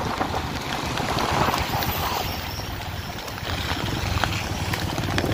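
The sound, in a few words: rain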